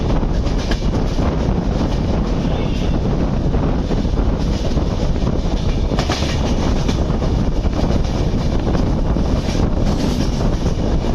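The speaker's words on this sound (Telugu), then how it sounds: "మన ట్రైన్ సోంపేట రైల్వే స్టేషన్ అయితే స్కిప్ చేస్తుంది" The Howrah–Visakhapatnam Superfast Express running at speed through rain, a loud continuous roar of wheels on rails with rattling carriages and wind buffeting the microphone, no talking.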